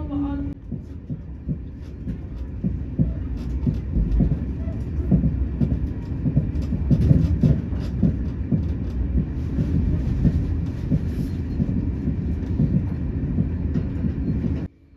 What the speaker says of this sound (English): The 2800 diesel multiple units is here and is to carry passengers from Limerick Junction to Limerick City as we pull into Limerick Junction here.